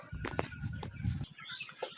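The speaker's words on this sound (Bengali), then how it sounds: "এটাই আমার মুরগি" Layer chickens in a poultry shed cluck in short, close bursts, several birds overlapping in a busy, uneven rhythm at moderate loudness.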